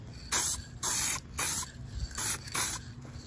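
Aerosol adhesion promoter is sprayed onto plastic G-body interior trim in five short, close hissing bursts with brief pauses between them, and no voices.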